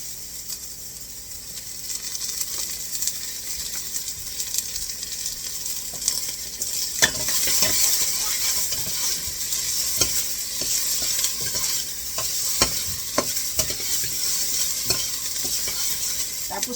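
Marinated pork chop sizzles steadily in hot oil in a pan while being stirred, with repeated scraping and clanking strokes of the utensil over a constant frying hiss; no talking.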